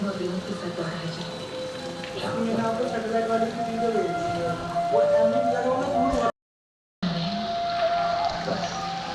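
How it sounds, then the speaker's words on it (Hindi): Steady heavy rain under dark clouds patters and hisses on surfaces close by, with a voice talking over it; the sound cuts out briefly near the end. "बिल्कुल अंधेरा हो गया, इतने काले बादल हो गए, खूब तेज बारिश हो रही"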